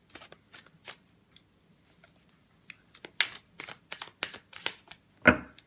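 Tarot cards being shuffled by hand, soft papery riffles and slides in scattered bursts, quiet and close, ending with a sharper snap of the deck.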